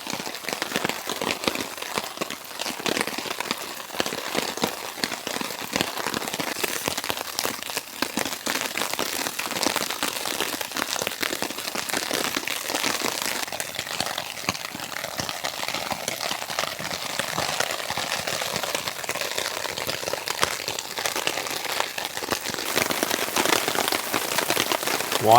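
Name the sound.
snow falling on a tent tarp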